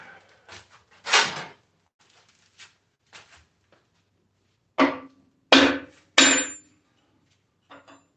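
Hammer striking Jeep 9-inch axle parts, several sharp metallic whacks spaced irregularly with lighter taps between them, close and loud against a quiet background.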